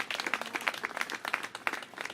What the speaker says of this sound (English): So let's give him a round of applause once again